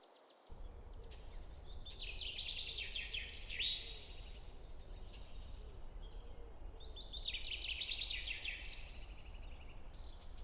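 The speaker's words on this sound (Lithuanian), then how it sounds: "švelnes paukščių giesmes." Soft bird song in two bright warbling phrases, fairly distant and gentle, over a steady low ambient rumble with no voices.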